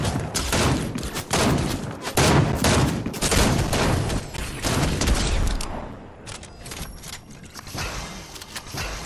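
Sustained automatic gunfire from a tracking gun in the game Shadow Tracker, a dense stream of close, loud shots that eases into softer, sparser bursts toward the end.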